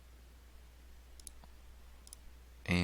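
A couple of faint, light computer mouse clicks on a Play All button, sparse and quiet against a low hum, just before a louder sound abruptly starts at the end.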